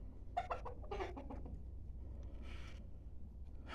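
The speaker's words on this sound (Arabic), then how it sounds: "شوف الديك هنا" A rooster and hens in a backyard coop with rabbits, several close clucks and calls in the first half, quieter scattered clucking after.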